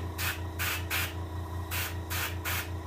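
Airbrush spray painting a hybrid striped bass taxidermy fish, with short hissing bursts coming in a quick irregular rhythm close by, over a low steady compressor hum and no talk.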